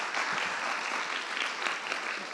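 An audience at a theatre red carpet gala claps in sustained, fairly close applause. The dense clapping holds steady throughout with no voices.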